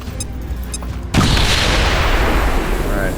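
A relay station in a video game is destroyed in a sudden, loud explosion that follows a brief quiet stretch, leaving a sustained roaring rumble and debris noise that fills the rest of the moment.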